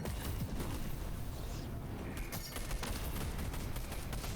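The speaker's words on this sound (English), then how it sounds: "You can hear the explosion, the fire." Explosions and fire in a Fortnite match produce a dense, continuous crackle of sharp bursts and rattling pops, loud and close, with brief louder flurries and no voices.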